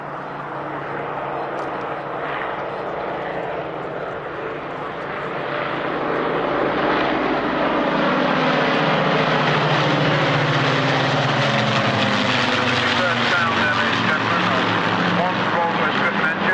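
Battle of Britain Memorial Flight aircraft fly past at an army airshow, a propeller engine drone rising from moderate to a loud, sustained roar as they approach, with an announcer talking over it.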